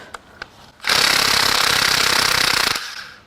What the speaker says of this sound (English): now we're going to unbolt the front cover